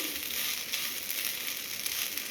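Aloo fried rice is stirred in a hot pan, giving a steady, close frying sizzle with no talking.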